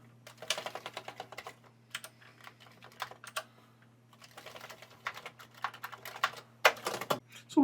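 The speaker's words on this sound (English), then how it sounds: "I can also test some writings on the keyboard" Brisk typing on a little-used vintage Commodore computer keyboard, bursts of clicky keystrokes with short pauses between runs, close and clear over a steady low electrical hum, no talking.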